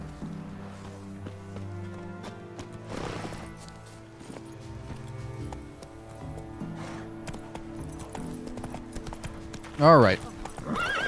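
Hooves clip-clop rhythmically beneath game music as a horse is ridden in The Witcher 3: Wild Hunt, with a brief loud whinny near the end and someone talking over it.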